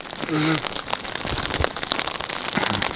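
Rain falls steadily on a mountain path in a video game, a constant patter filling the scene, with brief speech-like sounds and a short tonal blip near the start.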